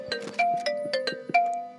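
Incoming-call ringtone sounding during a Roblox Rivals match, a short repeating electronic chime with several bright tonal notes in quick succession, moderately loud against faint game sounds.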